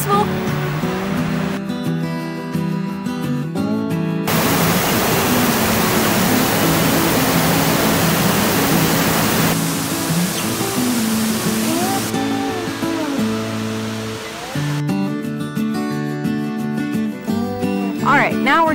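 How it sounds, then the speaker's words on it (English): A loud, steady roar of rushing water from a waterfall on Minnesota's North Shore near Duluth fills the middle stretch. Voices come before and after it. "this really is the gateway waterfall to all of the waterfalls on the North Shore"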